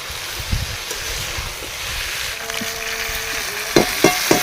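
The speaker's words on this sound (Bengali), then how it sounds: "আমি এখানে ফর্টি পার্সেন্ট মতো সবজিগুলো ভেজে নেব" Winter vegetables sizzle in oil in a pan for khichuri, a soft steady frying hiss broken by a few louder scraping stirs of the spatula toward the end.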